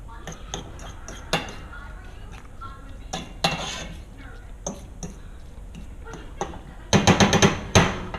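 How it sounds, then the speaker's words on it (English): Food stirred in a cooking pan, with sharp metallic clanks and scrapes of a utensil against the pan in irregular bursts, close, growing busier toward the end. "Just mix that in real nice."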